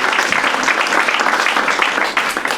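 Lively applause from a French theatre audience, a dense, loud wash of many clapping hands, sustained and unbroken throughout.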